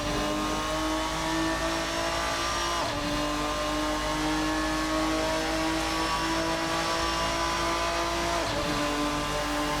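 RSS Ferruccio 57 race car in Automobilista 2 at full throttle down the start-finish straight, a loud sustained engine howl climbing through the revs, broken by two quick upshifts.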